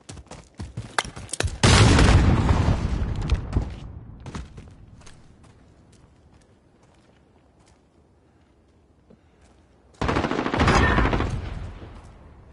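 Gunfire in the Black Ops Modern Warfare video game: several sharp shots, then a long loud burst of automatic fire that fades into quiet scattered steps, with a second heavy burst near the end.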